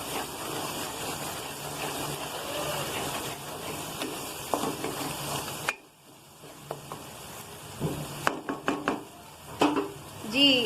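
Okra pickle spices, including fennel seeds, stirred in a hot pan with steady sizzling and scraping, a short quiet gap midway, then sharp clinks and stirring noises returning close by.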